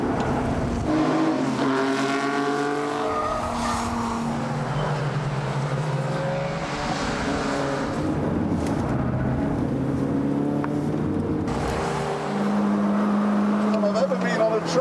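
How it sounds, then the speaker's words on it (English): A Mini's engine on a race track, circling among Formula One cars, drones loud and steady with shifting harmonic pitch as it pulls, while someone talks over it throughout. "The engine is very, very muscular, pulls well."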